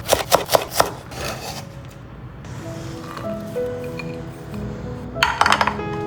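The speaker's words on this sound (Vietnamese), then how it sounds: "Đối với ớt sừng thì sau khi bỏ ruột thì mình sẽ thái hạt lựu nhé." Knife dicing seeded horn chili peppers on a cutting board for a tofu stir-fry: a quick run of crisp chopping taps at the start, a second burst near the end, with soft background music between.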